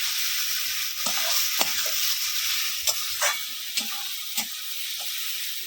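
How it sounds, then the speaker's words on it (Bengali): Spices stirred in a hot frying pan, a steady sizzle and hiss running throughout with several scraping stir strokes standing out, near and moderately loud, no voices. "এখন ভালোভাবে মিশিয়ে নেব"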